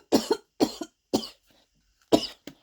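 A person coughs in a series of sharp fits, about four harsh bursts separated by short pauses, close and loud.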